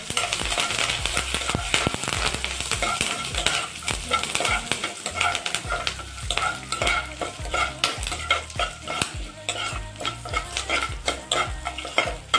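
Green chillies and curry leaves fry in hot oil for an eggplant tomato curry, a continuous crackling sizzle with busy, repeated stirring and scraping of a utensil in the pan.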